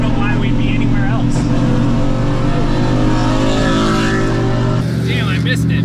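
Twin-turbo 5.0 Ford F-150 pickup engine revving loudly and steadily up close, a continuous deep drone with rising rev swells, a voice talking over part of it.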